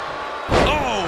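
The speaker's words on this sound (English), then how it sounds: "Turned it into a jawbreaker." A single heavy slam as a jawbreaker lands in the WWE 2K24 wrestling video game, Hulk Hogan against Randy Savage in an extreme rules match, followed by a rising crowd reaction and a voice.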